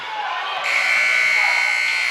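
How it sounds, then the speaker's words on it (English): Basketball arena buzzer ending the third quarter at a Donettes vs East Carter game, a loud sustained electronic tone starting partway in and holding to the end over a noisy gym crowd. "that's the buzzer at the end of the third quarter"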